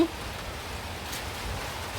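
Rain falls outside a house as a soft, steady hiss of drops that carries on evenly throughout, fairly faint and with no clear voices.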